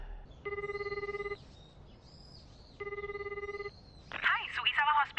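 Two bursts of an electronic telephone ring from an anime scene, each trilling for about a second with a pause between, followed by a brief high chirpy sound at the end; no talk over the rings.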